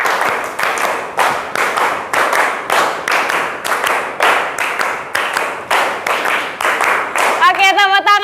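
Classroom clapping game with a steady run of many sharp, evenly paced claps by a group, loud and close, ending with a voice speaking over the last claps.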